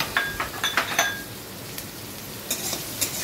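Chopped onions and gram flour stirred in a pan with a utensil, giving a run of close metallic clinks and scrapes in the first second, then a quieter stretch and a few more scrapes near the end.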